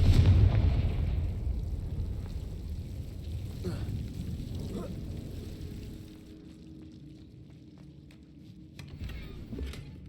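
A Confringo blasting spell explodes in the Hogwarts Legacy video game, a loud booming blast at the start whose rumbling tail fades over several seconds, followed by quieter ambient game sounds.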